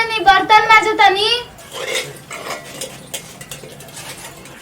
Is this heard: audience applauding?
no